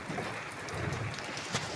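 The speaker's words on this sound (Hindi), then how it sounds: "आप भी देखें कितनी ज़्यादा बारिश, अब बहुत तेज़ बारिश हो चुकी है" Dense, steady rain hissing and pattering on surfaces, with a few louder drops standing out.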